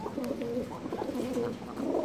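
Pigeons coo steadily in a loft housing dark-faced New York Tony bloodline cocks, several birds overlapping in a low, continuous murmur of soft warbling calls close by.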